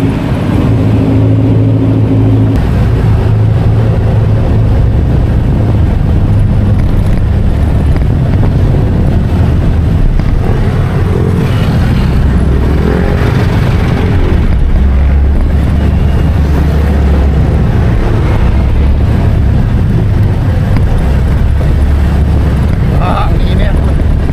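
A Honda Click 125 V3 scooter engine hums steadily through a test ride, its low drone mixed with heavy wind rush at the microphone and a voice talking over it throughout.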